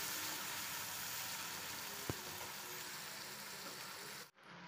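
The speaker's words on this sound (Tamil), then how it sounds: "இப்போ இதை நல்லா வதக்கிக்கலாம்" Onion and tomato sautéing in a pan: a steady, soft sizzle throughout with one brief knock midway, quiet and unbroken until it cuts off near the end.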